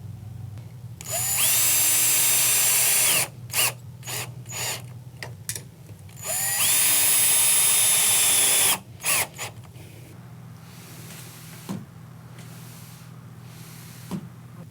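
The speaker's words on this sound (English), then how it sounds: "Using these 4 screws, you're going to fasten the panel bumper into your track." Power drill driving four screws to fasten a bumper into the track of a PGT 780/680 aluminum sliding glass door, with two long loud whirring runs, then ratcheting clicks and tool handling in a quiet room.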